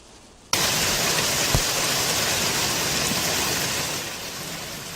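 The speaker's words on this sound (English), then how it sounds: "Now that's the sound of nickel-sized hail falling in Duncanville" A sudden onset of dense, steady pattering of nickel-sized hail on hard surfaces in Duncanville, Texas, a broad hiss that holds, then eases slightly toward the end.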